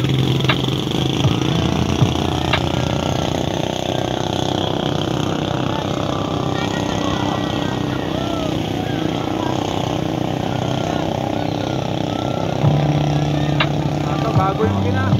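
A new engine on a racing boat at a boat racing competition runs steadily and loudly throughout, a continuous buzzing drone with a low throbbing rumble, close by.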